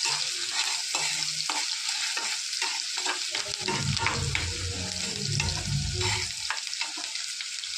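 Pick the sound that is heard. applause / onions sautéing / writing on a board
onions sautéing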